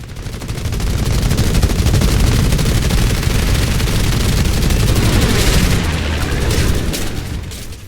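Sustained aircraft machine gun fire in a flight combat video game rattles in a dense, rapid stream of loud bursts for about six seconds before tapering off, alone with no talk.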